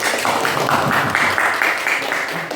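Students in a classroom applaud, a dense and fairly loud burst of clapping that holds steady for a couple of seconds, with some voices mixed in.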